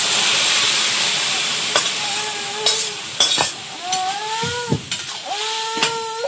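Bottle gourd with cumin powder goes into a hot pan, where a broad hiss of sizzling continues beneath several sharp clinks and scrapes of a utensil, with some brief squeaky tones near the end.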